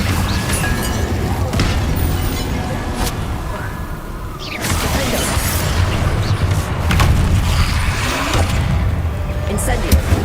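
Incendio fire spell cast in Hogwarts Legacy during a busy combat sequence, with bursting booms and crashing impacts over a dense, loud mix and a voice speaking.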